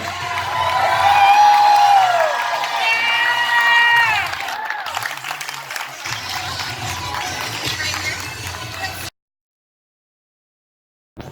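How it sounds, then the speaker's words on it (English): Wedding reception guests cheer, whoop and applaud loudly as the bridal party heads to their tables, shrill shouts over dense clapping that fades before a sudden silence. "we're going to dismiss the bridal party to their tables to thunderous applause"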